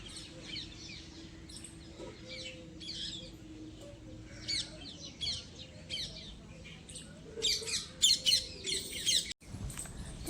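A sparrow chirps in short, bright bursts near an indoor home shrine, faint at first, then louder and quicker toward the end over a low steady hum.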